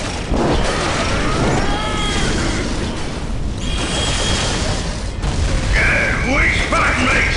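Gunfire and explosions in the video game Dawn of War: loud rumbling battle noise with booms and bursts runs dense and continuous throughout, joined by whistling, squealing effects, with no clear gaps.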